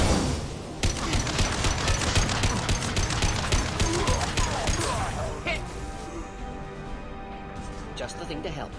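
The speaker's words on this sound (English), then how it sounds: "A misplaced shot could cause a significant explosion." Mass Effect 2 firefight in which crates of unstable material blow up under gunfire: rapid close bursts of shots and crashing impacts at first, then fading debris and rumble, with game voices speaking over parts of it.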